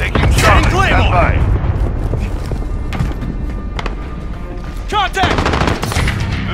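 Gunfire rattles in Call of Duty Modern Warfare during a Domination match, with loud automatic bursts and single shots clustered early and again near the end, while voices talk over the fighting.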